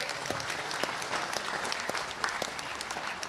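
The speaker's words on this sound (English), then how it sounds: "Round of applause, please." An audience applauds at the finals of a bowls championship, sustained clapping from a crowd with individual sharp claps standing out through the steady patter.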